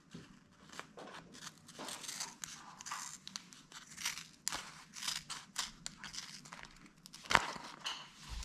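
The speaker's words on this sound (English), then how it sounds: "So I'll cut this out and cut it as a kind of an oval shape." Scissors snip through a Tear-Aid repair patch, shaping it into an oval for a Hilleberg Soulo Red Label tent: a steady run of close, crisp cuts with small crinkles, one sharp click near the end.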